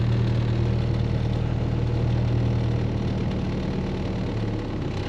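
A 1930 Ford Model A engine idles steadily after starting, a close, continuous low rumble with an even throb that stays level throughout, with no voices.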